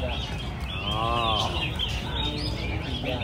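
At a Vietnamese rooster beauty contest, a rooster lets out one drawn-out, close crow in the middle, with clucking fowl and faint crowd murmur around it.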